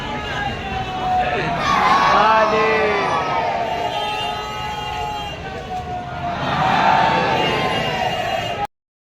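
A dense crowd mills about at Chikneshwar temple, a steady hubbub of many voices with tonal honks and horn-like calls swelling in and out, while a person talks nearby over it.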